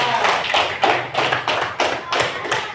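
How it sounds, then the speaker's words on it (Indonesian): Students in a classroom clap for a classmate, a loose, rhythmic burst of hand claps with distinct, evenly spaced beats, fairly close and moderately loud. "tepuk tangan untuk dia."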